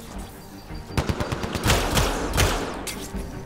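A machine gun fires in the video game Mass Effect: Andromeda, rapid bursts of close, loud shots with echoing impacts, breaking into several clusters over a low background hum.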